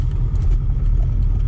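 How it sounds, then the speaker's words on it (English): A classic rally Mini with an A-Series engine and straight-cut gearbox rumbles loud and close. Its low engine drone is dense and steady, with slight uneven pulsing. "That A-Series engine, and then when you get one with a straight cut gearbox, there's just nothing that sounds quite like a rally Mini."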